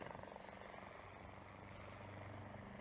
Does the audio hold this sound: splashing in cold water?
no